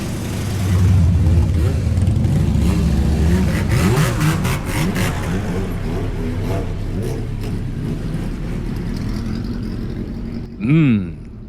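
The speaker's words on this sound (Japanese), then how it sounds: "ちょっとバイクサウンドを聞いてみましょう。" Several motorcycle engines roar past nearby, overlapping and revving, fading slightly before one bike revs sharply up close at the end.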